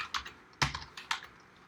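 Keys clatter on a computer keyboard as code is typed into a notebook, a few quick isolated keystrokes and short bursts close up, with no talking.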